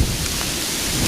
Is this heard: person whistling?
no